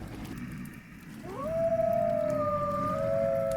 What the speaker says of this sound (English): Right on cue with the double wolf howl.